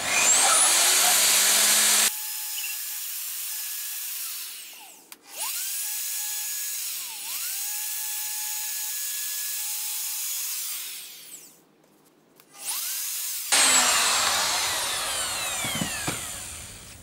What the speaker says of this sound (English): I've now fitted I think it's a 6 millimeter round over bit.